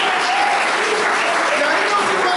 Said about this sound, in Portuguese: Pode aplaudir da glória a Deus